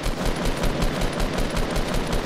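Rapid automatic gunfire in the Fortnite battle royale game, a fast even burst of shots repeating through the short stretch, loud and close with no voices.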